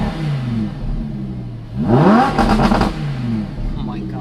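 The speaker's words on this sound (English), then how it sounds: "I'll give you guys some revs here though with the camera with the good mic." A straight-piped Lamborghini Huracan idling with a deep rumble, then revving in a quick, loud rising blip that rasps and crackles before settling back to idle, recorded close.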